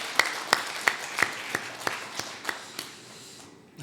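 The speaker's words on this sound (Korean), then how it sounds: "살아계신 하나님께 우리 감사의 영광의 박수 한번 올려드리겠습니다." A church congregation gives about ten evenly spaced, fairly sharp claps in a slow unison rhythm, fading slightly toward the end in a reverberant worship hall.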